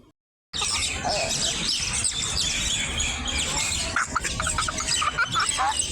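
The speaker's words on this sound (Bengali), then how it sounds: "এখানে এই শালিক পাখিগুলো মারামারি করছিল ভাবলাম একটু ভিডিও করে রাখি আপনাদেরকে পাখির একটু কিচির মিচির শব্দও শোনাই" Myna birds squabble in a tree, giving a dense burst of sharp chirps, squawks and squeals that starts abruptly and carries on close and busy to the end.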